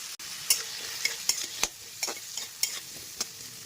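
Small diced potatoes fry in oil with turmeric and salt, a steady close sizzle broken by sharp scraping stirs of a spatula against the pan, roughly one every half second.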